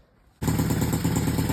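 SSR110 pit bike engine starting and running at idle, bursting in abruptly after a quiet moment, then a loud, close, steady rapid putter with a clattery mechanical edge.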